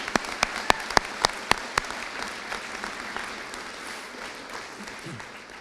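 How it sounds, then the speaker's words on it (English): Audience applause at a police services awards ceremony, opening with a few loud, separate claps near the mic and then settling into a softer, even spread of clapping across the room. "Could we please give her a round of applause?"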